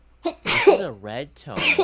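A loud, explosive sneeze bursts out in the middle of a casual chat during a Fire Emblem Heroes game session, with a second sharp burst following a moment later and talking around both.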